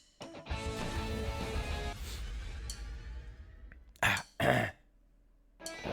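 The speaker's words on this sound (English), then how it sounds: "Clear my throat." A person clears their throat twice in short, sharp bursts after a stretch of low rumbling background, then a faint sound follows.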